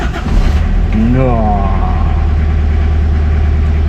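A Chevrolet LUV KBD 26 engine cranks and fires, then settles into a steady, loud idle for several seconds, with a brief spoken word early on.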